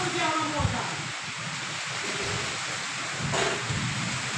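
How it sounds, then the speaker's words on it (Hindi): A night thunderstorm with heavy rain lashes a farm, a dense steady roar of rainfall with brief rumbling bursts, close and loud, while someone speaks over it. "ये देखिए पूरा आंधी तूफान है"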